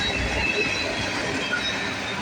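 A freight train of petroleum tank cars rolls steadily past at close range, a continuous loud rumble of wheels on rail with faint squeals throughout.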